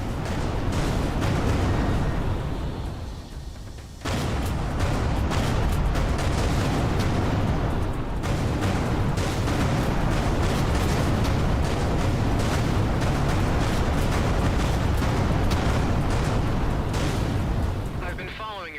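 Explosions boom in the Everspace 2 space combat game, a sustained loud roar of blasts and crackling debris with a brief dip before it resumes, voices talking over the din.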